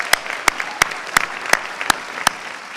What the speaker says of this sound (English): We give them a quick round of applause.